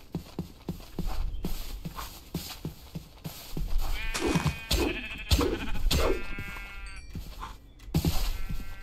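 Sheep in the RL Craft game bleat in short wavering calls over repeated clip-clop footsteps and thuds, with several bleats clustering in the middle.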